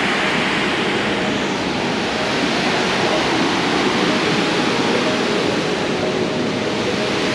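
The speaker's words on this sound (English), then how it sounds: "This waterfall is so beautiful." A roaring waterfall at Burney Falls pours steadily, a loud, continuous broadband rush that stays constant from start to finish with no voices over it.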